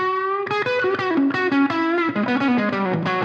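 Electric guitar through a 1964 Supro Super amp with reverb added afterward, a run of picked notes and chords with a slightly crunchy, ringing tone, steady and up close.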